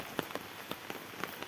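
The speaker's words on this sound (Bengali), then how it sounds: "বৃষ্টি হচ্ছে।" Rain falls on a hard surface in a soft patter, with scattered distinct drops landing here and there among the quieter drizzle.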